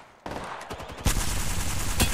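Automatic gun firing with hard recoil in Apex Legends, a dense, loud stream of shots that starts abruptly and grows heavier midway, with no talk over it.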